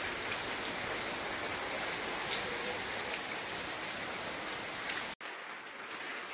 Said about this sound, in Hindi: खूब तेज़ बारिश हो रही है।